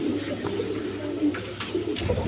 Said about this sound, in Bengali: দেখেন এইখানে অনেক কবুতর রাখছি একসাথে